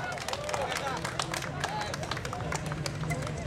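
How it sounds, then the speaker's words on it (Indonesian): Steady crowd applause at an outdoor public launch event, with many hands clapping at once, a dense even patter with a murmur of voices mixed in. "Boleh tepuk tangan dong sekali lagi dong."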